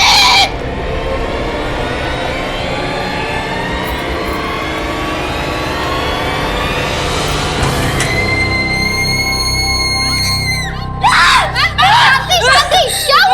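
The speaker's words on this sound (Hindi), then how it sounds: "आप इतना चीख क्यों रही थी?" A woman in a Hindi horror drama screams, a long shrill cry that rises steadily in pitch, then breaks into several loud, sharp shrieks near the end.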